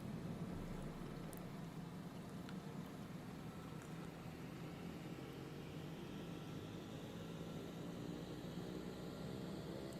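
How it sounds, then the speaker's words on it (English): Propeller engine of a Black Square Bonanza in Microsoft Flight Simulator 2024, run up to 2000 RPM for a governor check: a steady, loud droning hum with a broad noisy roar that holds evenly throughout, no voices. "we need to do a governor run here. So we'll put this up to 2000 RPM"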